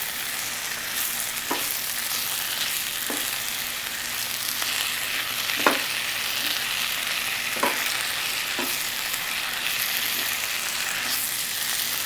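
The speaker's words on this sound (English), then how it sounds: "So we're incorporating the garlic all in it now." Garlic stir-frying in a hot iron skillet for a Cajun stir fry, a steady broad sizzle running throughout with periodic sharp scrapes and clinks from stirring, close and fairly loud, no talking.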